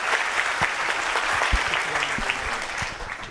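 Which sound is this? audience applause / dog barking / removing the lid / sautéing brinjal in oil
audience applause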